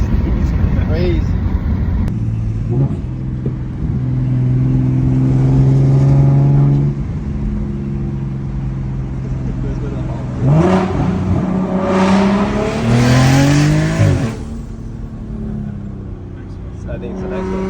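A BMW 340i accelerates hard in second gear, its engine note climbing and falling through loud, close revs from inside the cabin, with a whir. Excited voices talk over it.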